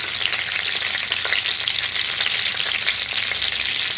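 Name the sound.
green chillies and spices frying in ghee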